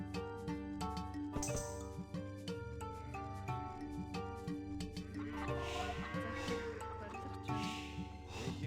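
Sheep bleat repeatedly in Age of Empires II: The Conquerors, a string of clear calls set against steady in-game music and clinking sound effects.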